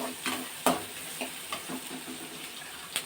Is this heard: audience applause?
no